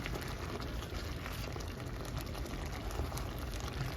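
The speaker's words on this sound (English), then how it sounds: "now it says to boil this for 10 minutes" A pot of liquid with purple onions boiling steadily, a continuous close bubbling and gurgling with no talk.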